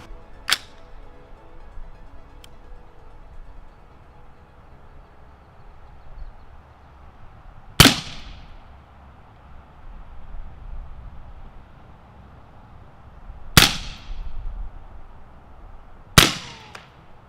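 Four sharp, widely spaced gunshots from an AR rifle firing 11.2 grain subsonic 300 Blackout loads, each a crisp crack with a brief ringing tail against quiet outdoor background hiss.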